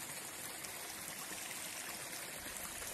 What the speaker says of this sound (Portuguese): Olha a água que vem do outro tanque aqui, ó.